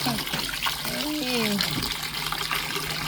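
Tap water runs steadily while dishes are washed up, a constant close wash of splashing noise that fills the whole clip, with a voice talking briefly over it.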